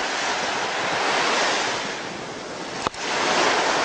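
A strong current rushes through a shallow reef pass, a loud, continuous broadband roar of churning water and wind at close range, with one brief knock partway through.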